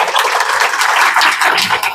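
A burst of audience applause at a public forum, dense and steady clapping from many hands throughout, fairly loud and close.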